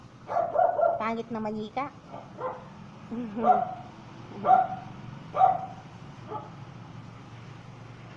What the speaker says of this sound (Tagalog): Naku, tinatahulan ako ng aso.